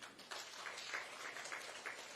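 Audience applause at a children's literature and cultural festival seminar, a steady wash of many hands clapping at moderate level, continuous for a couple of seconds with no talk.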